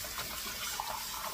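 Tap water runs steadily while a double-wall glass mug is washed with soapy water in a sink, a brief hissing splash with small watery spatters and no speech.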